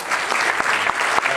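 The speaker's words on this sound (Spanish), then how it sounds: "así que démosle un aplauso" Dense audience applause for a panel speaker at a business technology event, many hands clapping steadily and fairly loud, with a few distinct sharper claps standing out.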